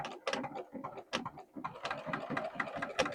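A home sewing machine stitches denim overalls, giving quiet, uneven bursts of needle chatter and mechanical ticking with short pauses between runs.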